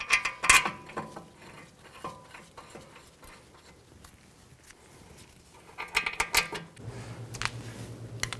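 Bolts are threaded into a front brake caliper bracket on a 2006–2010 Mercury Mountaineer, giving a few sharp metallic clicks and ratcheting clinks close up with quiet gaps in between.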